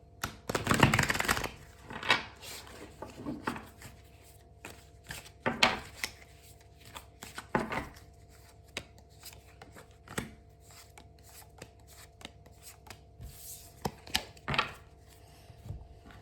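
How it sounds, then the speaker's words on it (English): A deck of tarot-style cards shuffled by hand for a yes-or-no reading, giving soft riffling and tapping bursts spread irregularly across the stretch, with a loud flurry at the start and quieter shuffles after. "so you can shuffle this deck."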